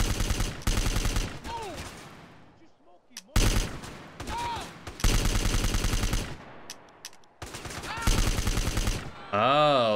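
Gunfire rings out in a gangster mod of a video game: several sharp bursts of rapid shots separated by brief pauses, loud and close, with a few ricochet-like whines between volleys.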